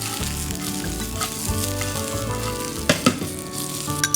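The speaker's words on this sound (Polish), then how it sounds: "Zaczynam od smażenia kiełków" Bean sprouts sizzle and crackle steadily in a hot pan, with occasional clinks and scrapes of stirring near the end.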